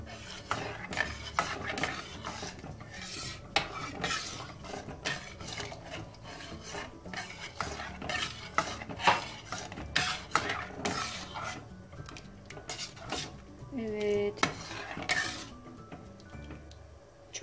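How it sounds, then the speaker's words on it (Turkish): A spoon stirs potato soup in a metal pot while milk is added little by little, giving steady scraping and rasping strokes in a continuous rhythm, close and moderately loud, with occasional clinks against the pot. "Şimdi yavaşça sütünü azar azar ilave edip şöyle karıştırarak ilave edelim"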